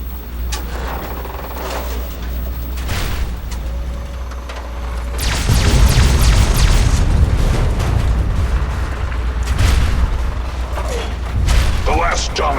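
Liberty Prime's photonic resonance overcharge blast in Fallout 3: mechanical whirring builds into a loud sustained roaring rumble with booming bursts, alongside a robotic voice and chaotic combat noise.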